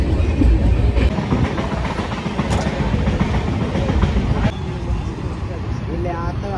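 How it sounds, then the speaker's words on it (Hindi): Train pulling into a station on the Gauribidanur–Hosur line in Karnataka, a loud, continuous rumble with rail clatter that eases slightly near the end, and voices faintly audible underneath. "तो संगवारी फाइनली यहाँ पर ट्रेन आ पहुँचे हैं।"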